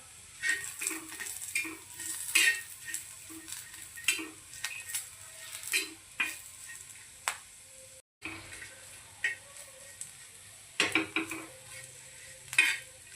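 Whole spices and bay leaf roasting in oil for spicy mutton kasturi methi, with soft frying crackle under repeated stirring and scraping of a metal spoon against the pot, quiet and close, no voices.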